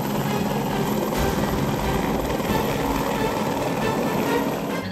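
Close, loud helicopter noise from a helicopter about to take off, with a constant rotor thrum and engine roar, unbroken for the whole stretch.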